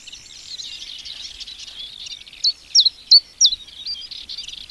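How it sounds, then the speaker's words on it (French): A common chiffchaff sings a short series of sharp, repeated notes near the middle, clear and fairly close over a faint background of other high bird chatter. "Ici, le pouillot véloce."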